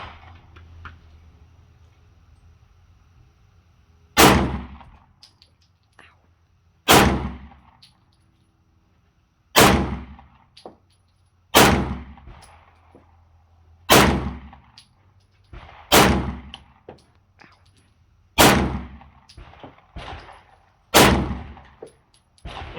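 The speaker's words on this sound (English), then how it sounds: "So we're testing the P210 here, which is standard 9mm ball ammo," Nine sharp 9mm ball-ammo shots from a Sig Sauer P210A pistol ring out loud and close, spaced a few seconds apart with brief echoing decay after each report.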